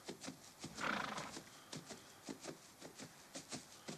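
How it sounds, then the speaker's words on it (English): A tired horse walks with regular soft clip-clop hoofbeats, faint and steady, with a brief snort or whinny early on. "Horse is tired."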